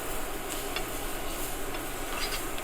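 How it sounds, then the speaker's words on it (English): Onion and flour roux being stirred in a pan, a steady, faint sizzling hiss with a few soft scraping strokes and light ticks, with no talking. "So I'm just stirring everything still."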